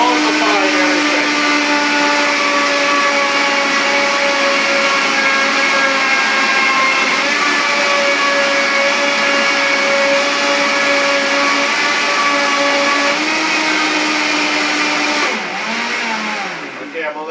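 A blender running on high while making a beet smoothie, giving a loud, steady whirring motor whine that holds for about fifteen seconds before shifting pitch and easing off near the end.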